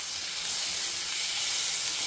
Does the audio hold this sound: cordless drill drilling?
no